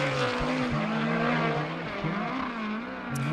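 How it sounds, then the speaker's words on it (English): USAC race car lapping the track at Arizona Speedway, a loud, steady engine drone with shifting pitch as it passes, continuous for the whole clip with no talk. "'82 car on the racetrack now"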